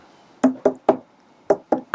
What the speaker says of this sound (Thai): อันนี้คือเสียงเคาะ